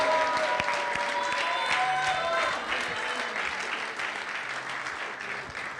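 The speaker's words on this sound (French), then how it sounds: "to applaud for Jesus?" A congregation claps for Jesus during an anniversary church service, sustained thick applause with some voices and held tones mixed in early, easing slightly toward the end.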